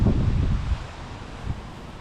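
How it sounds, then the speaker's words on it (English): Wind buffeting the microphone in low, rumbling gusts, strongest at the start and easing slightly, with no voices. "it's so windy that the plants are starting to break"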